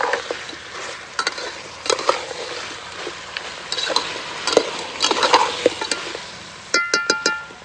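A spoon stirs mutton masala in a frying pan, giving a steady sizzle under repeated scraping strokes and clicks against the metal, close and fairly loud, with a quick run of sharp taps near the end and no talking.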